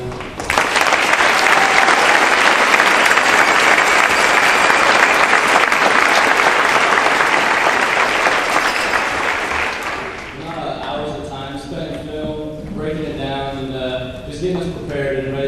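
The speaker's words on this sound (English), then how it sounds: "I just want to give a big round of applause for them." Loud, sustained applause and cheering from a crowd honoring the coaches at a community celebration for the Metamora Redbirds Class 3-A state champions, filling about ten seconds before fading as a voice speaks over the hall.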